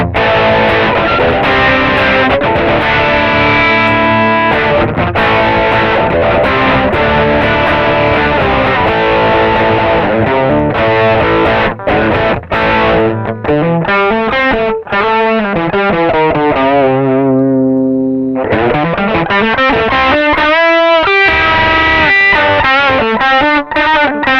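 Loud, heavily distorted electric guitar through a Wampler Phenom Distortion pedal plays continuously with thick chords and a sustained tone, briefly thinning to a single held note before resuming.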